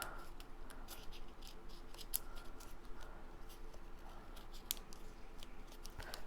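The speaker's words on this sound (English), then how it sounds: "So now what I'm going to do is I'm going to fold these tabs." Paper card tabs on a pop-up bee slice Valentine card being folded by hand, giving soft, close crinkles and sharp creasing scratches in a quiet, steady series with no talking.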